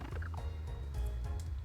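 A bird Pokémon's cry from Pokémon Blaze Black 2, a short gobbling, warbling electronic call with a loud, steady low hum beneath it and no speech.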